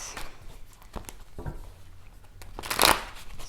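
Tarot cards shuffled by hand during a Taurus reading, a run of soft riffling and slapping bursts that ends in one brisk, louder riffle near the close, heard up close with no talking.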